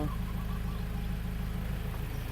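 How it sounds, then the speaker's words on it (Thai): A 2013 Ford Ranger Open Cab Hi-Rider 2.2 XLS engine runs steadily and close, with a low, even diesel rumble and faint mechanical clatter throughout. "ให้ลองเร่งสิเร่งเครื่องหน่อยนึง"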